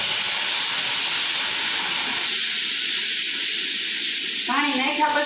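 Water added at the side of a hot pan of masala and onions hisses loudly in a steady, broad steam roar that continues throughout, with a voice briefly heard near the end.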